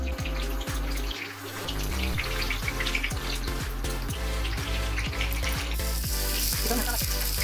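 Fish pieces sizzling steadily in a hot pan with oil, loud and continuous, with occasional scraping knocks as pieces are turned over; no talk.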